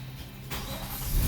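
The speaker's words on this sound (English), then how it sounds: "The car starts" A 2013 Nissan Maxima engine cranks and catches after a no-start fuse fix, a broadband rush at about half a second settling into a steady low running rumble that swells louder near the end, close by.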